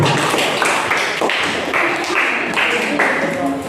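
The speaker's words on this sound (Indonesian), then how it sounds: "tepuk tangan untuk kelompok 2" Students in a classroom applaud a group's presentation with a dense burst of clapping from many hands, fairly loud and close, with voices chattering over it.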